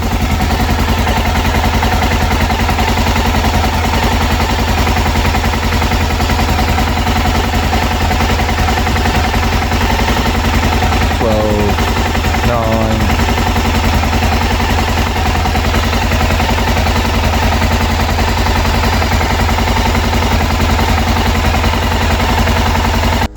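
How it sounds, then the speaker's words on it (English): A BMW F650 Funduro motorcycle engine idles steadily and close by, a continuous low rumble with no talk over it and a brief shift in tone near the middle. "So if we turn the bike on, see what happens."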